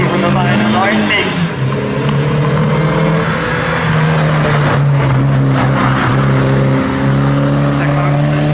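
A historic race car at a Jochpass Memorial hillclimb training run drives past, its engine a loud sustained drone with shifting pitch as it passes close by, heard under a commentator's voice.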